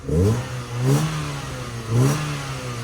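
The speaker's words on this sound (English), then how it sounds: "Chip, put it in neutral. Give it a little rev." A Mk3 Ford Fiesta engine is revved in neutral: two quick blips rise and fall over a steady, close idle.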